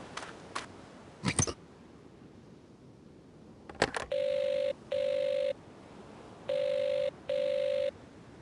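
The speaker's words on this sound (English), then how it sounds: "Phone isn't much good if no one will answer it." A telephone rings in the Agatha Christie: Evil under the Sun video game, four clean electronic rings in two pairs following a few clicks and knocks, loud and close against a quiet backdrop.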